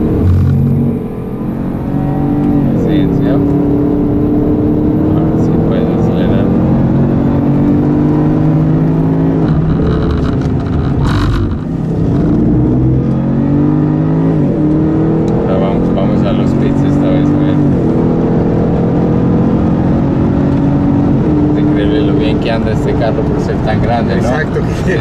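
A Jaguar car accelerating hard on a track during a performance driving session, its loud engine droning close up and rising in pitch through repeated upshifts, with people talking over it.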